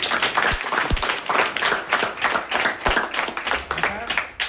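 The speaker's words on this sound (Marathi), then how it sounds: "तर सरांच्या करता एकदा जोरदार टाळी" An audience at a community event breaks into loud, sustained applause, dense clapping from many hands that rises and falls in waves with a few sharper claps standing out.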